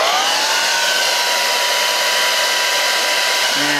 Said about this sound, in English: I'll use my dryer and just put some cold air on it and see what happens.